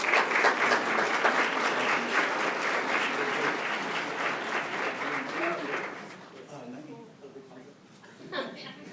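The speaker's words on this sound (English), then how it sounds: "Let's thank the Energy Co-op with a round of applause." Applause for the Energy Co-op fills a school district board of trustees meeting, a dense, sustained crowd clapping with a few chuckles. It fades after about six seconds, leaving quieter room sound and a brief final swell.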